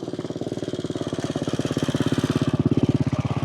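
A motorcycle engine putters in a steady, fast chugging rhythm, close and fairly loud, growing slightly stronger as it runs.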